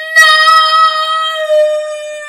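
A dog dying in a video game gives one sustained, whining howl-like tone that holds steady for about two seconds, clear and alone.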